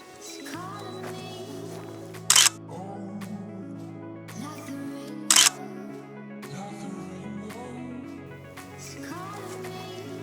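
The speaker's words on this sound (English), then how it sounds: "set your self-timer on the camera to 10 seconds, and once you press the shutter button" A camera on a self-timer runs through a ten-second countdown, and two brief, sharp shutter clicks stand out over steady background music.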